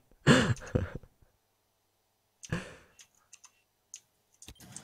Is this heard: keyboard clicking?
yes